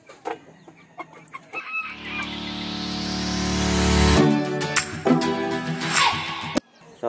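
Chickens sick with fowl pox give short, scattered clucks, broken midway by a loud rising mechanical whine that cuts off abruptly, then more clucking and rustling nearby.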